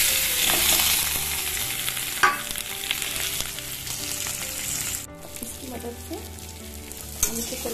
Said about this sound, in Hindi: ये हमारा तेल गरम हो चुका है, अब इसमें हम ये आलू डाल देंगे।